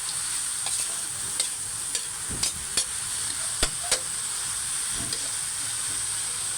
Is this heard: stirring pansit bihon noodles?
yes